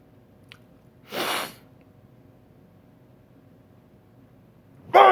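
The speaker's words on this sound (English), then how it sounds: "I'm sorry, I sneezed." A single short sneeze bursts out near the start, followed by quiet room tone and another abrupt sharp noise at the very end; no talking is heard.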